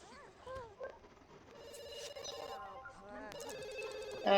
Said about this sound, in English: She's answering her phone